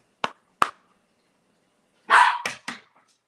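A dog barks indoors in short sharp bursts: two quick single barks, a pause, then a louder cluster of three close barks, all clear against silence.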